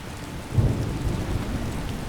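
Thunderstorm in an Elder Scrolls video game, steady heavy rain on surfaces with a deep rumble of thunder swelling midway, loud and enveloping with no voices.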